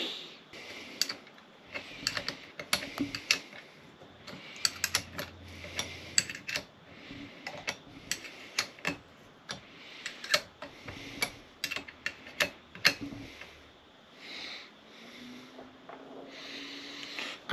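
Bolts go back into a Mercury 15hp two-stroke outboard as a quiet, uneven run of small metallic ticks and clicks from close by, with short pauses and no talk.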